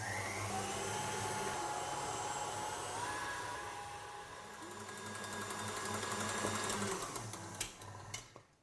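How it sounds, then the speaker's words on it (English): A KitchenAid stand mixer whisks meringue at high speed, a steady loud motor whine with a constant hum that shifts slightly in pitch and tapers off near the end. "I'm going to get it on the KitchenAid and turn the whisk on this for at high speed for probably about 5-10 minutes"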